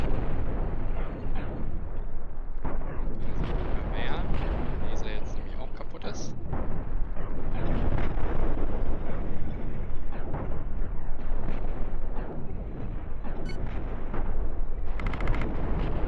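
Heavy cannon fire and explosions from the space-ship combat game Cosmoteer pound in a dense, nonstop barrage of booms and crackling blasts, with voices talking underneath.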